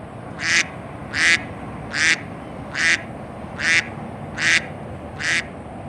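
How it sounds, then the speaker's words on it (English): A bird foraging along a creek gives seven loud, evenly spaced quacking calls, each brief and sharp, repeating about every 0.7 seconds over a soft background hiss. "The bird is travelling amongst the forage along the creek."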